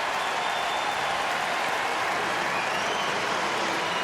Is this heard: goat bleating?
no